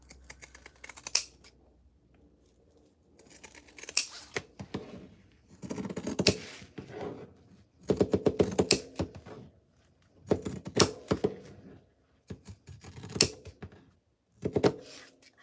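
Fabric shears cut through material for a clutch wallet, giving several bursts of close crunching snips separated by short pauses, each burst a quick run of crisp blade closures over about fifteen seconds.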